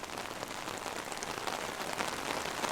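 Rain patters on an umbrella at Disney's Animal Kingdom, a close, steady crackle of drops striking the fabric with no voices over it.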